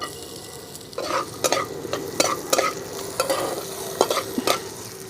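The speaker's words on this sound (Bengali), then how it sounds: "আমি হালকা করে একটু পেঁয়াজটা নেড়ে নিয়েছি" Chopped onion sizzling in hot oil in a wok, with a steady fry hiss under repeated scraping stirs of a spoon at an uneven rhythm, close and fairly loud.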